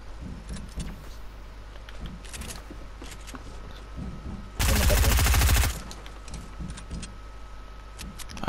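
Fortnite gameplay with a dense burst of rapid automatic gunfire, loud and lasting about a second, set against quieter in-game movement and scattered clicks before and after.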